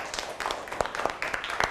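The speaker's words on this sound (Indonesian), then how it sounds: "Tepuk tangan dulu untuk Imam" A primary school class claps briefly for a pupil, a short ragged burst of hand claps at moderate volume, close by in the room, with a little talk mixed in.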